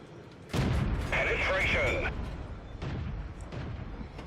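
A Cromwell tank gun firing in World of Tanks, a sudden loud boom followed by a metallic ringing tail and rumbling after-effects, with a second softer report later.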